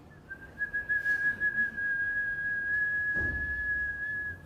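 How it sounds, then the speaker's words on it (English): A person whistles one steady, pure high tone by sucking air in, holding it for several seconds, close and clear, with a little breathy noise around it. "I know my whistling's lousy, but even if you're a good whistler, I do better sucking in"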